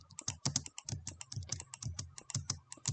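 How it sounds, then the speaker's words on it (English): Rapid, steady keyboard typing with repeated space bar presses during a Minecraft build, crisp close clicks in an even rhythm throughout, no talking. "You can hear me clicking space every time."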